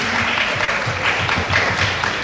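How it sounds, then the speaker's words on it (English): An audience applauds the participating students at an interprimary school quiz, a steady, dense burst of clapping from a crowd, loud and close, with no talk over it. "A round of applause again for our participating students."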